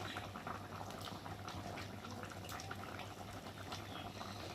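Fish curry broth boiling in a pan, a soft continuous bubbling and simmering hiss, faint and steady with no talk.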